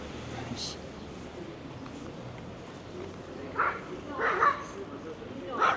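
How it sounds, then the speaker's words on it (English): A dog sitting in a grocery store window on a street in historic Dole, France gives a few short barks and yips toward the end, moderately close, over steady outdoor street ambience. "This dog just kind of hangs out here in the window."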